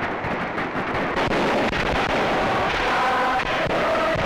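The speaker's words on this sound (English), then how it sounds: "the festivities, which end with a grandiose fireworks display," Grandiose fireworks display closing a festival, heard as a dense, continuous roar of bursts and crackling, loud and sustained throughout with no distinct individual bangs.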